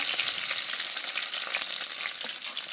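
Curry leaves and fresh fenugreek frying in hot oil for a fish curry, a loud continuous crackling sizzle with spatter pops and occasional stirring, close up and without speech.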